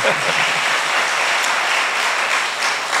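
Audience applause at a Marathi devotional discourse on the Navnath scripture, a steady wash of many hands clapping that fills the whole stretch at an even loudness, with no talk over it.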